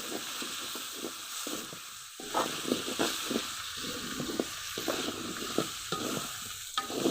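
Tomatoes cooking down in a pan with turmeric, spice and chili powders for potato curry, giving a steady soft sizzle with repeated scraping and stirring strokes throughout, close and continuous, no voices.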